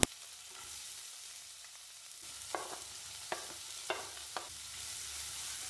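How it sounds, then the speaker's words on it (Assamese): Finely chopped ginger, green chillies and onion frying in hot refined oil in a pan, a low steady sizzle broken by four or five sharp clicks and crackles, close and fairly quiet. "তেলখিনি গৰম হোৱাত মই মিহিকৈ কাটি লোৱা আদা আৰু জলকীয়াখিনি আৰু পিঁয়াজখিনি পেনটোত লৈ ল'লোঁ।"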